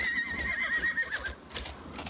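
A horse in the open-world ranch game Horse Tales: Emerald Valley Ranch gives a loud, drawn-out whinny over rhythmic clip-clopping hooves, followed by fainter scattered sounds.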